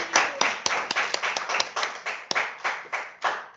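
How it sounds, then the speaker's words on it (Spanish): A small group in a classroom claps in a brisk, uneven patter of sharp hand slaps, steady for a few seconds, close and fairly loud. "Excelente, un fuerte aplauso a Damaris"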